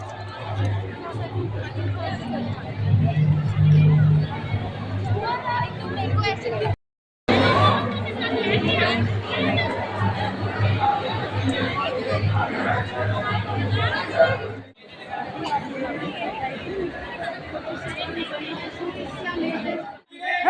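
Steady crowd chatter and hubbub fill a busy international trade fair hall, a continuous babble of many voices close around, with a brief dropout partway through.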